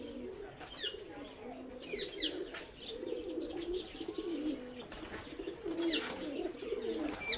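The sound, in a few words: pigeons cooing in aviary cage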